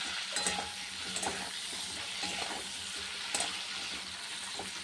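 Potatoes and pointed gourd seasoned with salt and turmeric fry in a pan, giving a steady soft sizzle with a few clinks of a spatula or stirring.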